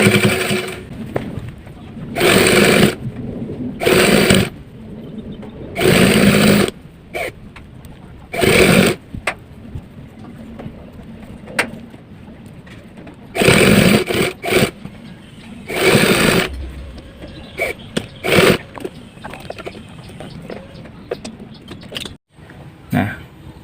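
A sewing machine stitches the side seams of a pair of drawstring shorts with side pockets, running in loud bursts of a few seconds separated by pauses, close up, with occasional soft handling noises between runs.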